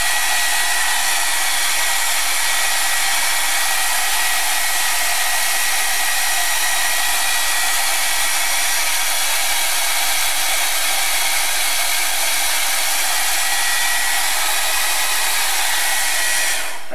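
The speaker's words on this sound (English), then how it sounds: "Heat gun." A heat gun blowing hot air to dry artwork, a loud, steady, unbroken rushing whoosh with a constant motor hum lasting the whole stretch, close and alone.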